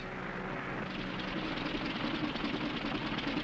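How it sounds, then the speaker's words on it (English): An airplane engine with engine trouble: a steady droning roar with a rough, uneven texture, growing slightly louder toward the end, with no voices. "Engine trouble, sir. We'll have to go back to the field."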